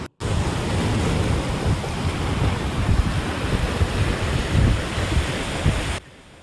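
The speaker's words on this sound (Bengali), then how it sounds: "সমুদ্রের গর্জন শুনেছেন?" The sea roars at Natural Bridge on Neil Island in the Andaman Islands during the rainy season. A continuous loud rush of surf comes with wind buffeting the microphone, and no one speaks.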